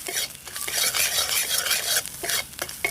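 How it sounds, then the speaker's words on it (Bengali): Ground cumin, turmeric, chilli powder and salt lightly frying in a pan, a loud close sizzle broken by repeated rhythmic spatula stirs and scrapes. "এবার মশলাগুলোকে হালকা একটু ভেজে নেবো"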